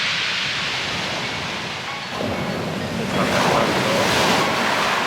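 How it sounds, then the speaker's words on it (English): Sea waves surging and breaking on Walmer Beach in November, a continuous broadband roar with wind buffeting the microphone, swelling louder in the second half as surf rushes close; no talking. "The waves are getting rather close."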